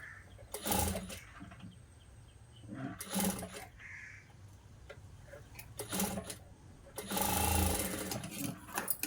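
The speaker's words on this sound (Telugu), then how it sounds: "లోపలికి అంతా అనుకొని ఒక కుట్ట అనేది వేస్తున్నాను" A sewing machine stitching a blouse hem in short bursts of rapid whirring, separated by quieter pauses with faint ticking, moderately close.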